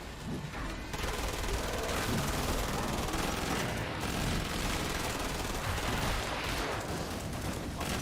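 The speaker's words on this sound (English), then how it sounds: "Nice shooting." Heavy, sustained gunfire in the video game Doom 2016 forms a dense, loud barrage of rapid shots and blasts. It runs almost without a break across the whole stretch, with no talking.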